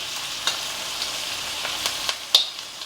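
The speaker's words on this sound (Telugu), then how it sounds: "ఉల్లిపాయ కొంచెం వేగనిద్దాం" Onions frying in a pan while idli upma is made: a steady hiss of sizzle, close and moderately loud, with a few sharp crackles and spatula scrapes spaced through it. No one speaks.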